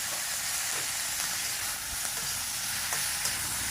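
Chinese kale sprouts and their seasoning are stir-fried in hot vegetable oil in a wok, making a loud, continuous sizzle with occasional clacks and scrapes of stirring, close up and free of talk.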